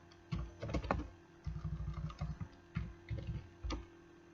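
Someone types a command on a computer keyboard while setting up an Apache 2 web server, with short clusters of crisp, quiet key clicks separated by brief pauses, close up and alone.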